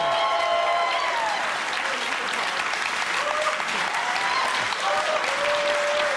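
Sustained applause from a television studio audience, loud and steady throughout, with a few faint tonal notes drifting underneath.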